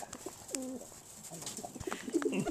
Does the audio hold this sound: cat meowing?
no